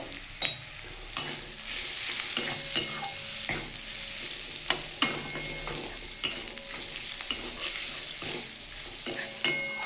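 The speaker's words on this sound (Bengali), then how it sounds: "একটু ভালো করে নাড়িয়ে নিচ্ছি" Spices with chilli and turmeric powder being stirred in a frying pan for pomfret curry, a steady sizzle broken by repeated scraping stirs, close and fairly loud with no talking.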